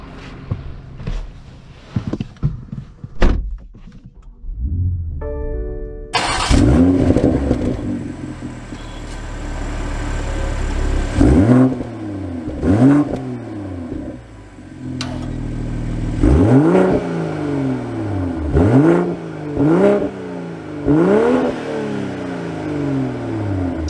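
A 2022 BMW M240i xDrive starts up and revs repeatedly, its engine note rising and falling in a series of sharp, loud blips over a steady idle, close to the car with no talking.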